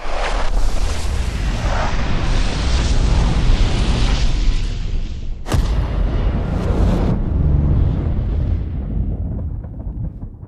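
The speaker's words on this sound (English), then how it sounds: "is that sufficient enough cover to protect you from the rocket launcher?" RPG-7 high-explosive rocket striking a cinder block wall: a loud, sustained roaring boom dominates, followed by a sharp blast and a rumbling, fading aftermath, with no voices.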